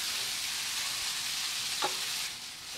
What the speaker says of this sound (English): just going to move the oil around a little bit and then throw our brioche buns, making sure the bottoms of them, the insides of them are all touching the pan